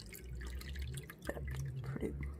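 Warm water is poured into a bowl for bread dough, a close splashing, dripping trickle running steadily with small splashy bursts, no talking.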